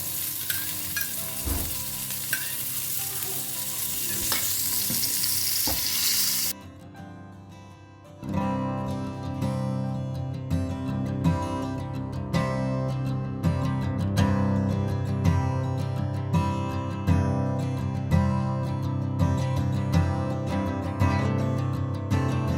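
Stuffed Goan mackerel fries in a pan, a loud steady crackling sizzle with dense popping spatters, briefly softer partway through before resuming strongly, close up and without talk.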